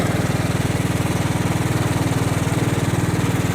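A lawn mower engine with worn, growly spindle bearings and a cracked spindle runs at a steady, loud, throbbing idle up close, a rough rhythmic pulse continuing unchanged without any voices.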